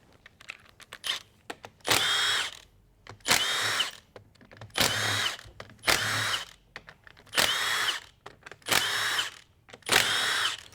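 A power tool backs out the pump bolts on a 4L60E transmission. It sounds in seven loud whirring bursts of about a second each, evenly spaced with quiet gaps and a few light clanks between them, close by and without talking.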